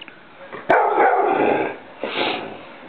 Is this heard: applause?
no